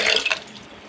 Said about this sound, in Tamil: இது கூடவே நான் ஒரு 1/2 லிட்டர் தண்ணி சேர்த்துக்கிறேன்.